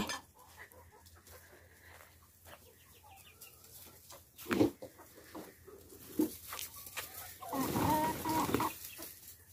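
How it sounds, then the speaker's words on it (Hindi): Chickens let out of their coop cluck and squawk nearby in scattered bursts, growing busier and louder toward the end. "मुर्गियों को मैंने बाहर निकाल दिए"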